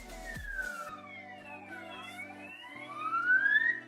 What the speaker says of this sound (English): Hope whoever's in the ambulance is okay.